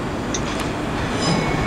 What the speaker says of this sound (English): arriving now is going to be a terminating Transpennine Express service from